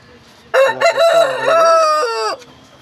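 A rooster of a fighting-cock breed in Nellore crows once, loud and close, a single drawn-out cock-a-doodle-doo lasting under two seconds with stuttering breaks at the start.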